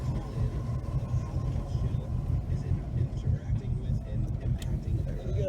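A 1999 Rinker 24 Flotilla boat engine idles steadily with a low, continuous rumble heard from nearby, and a person's voice comes through faintly over it.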